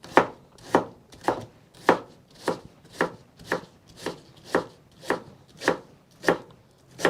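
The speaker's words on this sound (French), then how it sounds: "Je coupe pareil. Ça, c'est du poireau" A knife chops leek into small cubes on a board, giving about a dozen evenly spaced, crisp, close taps with nothing else heard.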